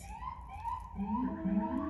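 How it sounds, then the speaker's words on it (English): Wailing sirens rise and fall in pitch, sounding at a moderate distance with a second tone joining midway; no one speaks. "Y'all hear them sirens"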